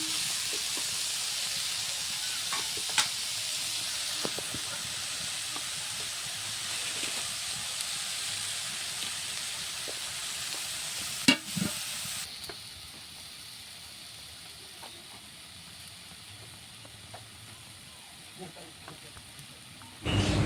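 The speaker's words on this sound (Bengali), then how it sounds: "ভেজে নিতে হবে" Prawns and pumpkin leaves dry-frying in a pan, a steady hiss of sizzling with scattered faint clicks that quietens partway through.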